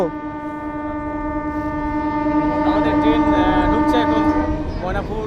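An inaugural train from Jairambati, Bankura, pulls into Maynapur railway station, sounding a long, loud, sustained horn blast over a crowded platform with the rumble of the arriving train beneath.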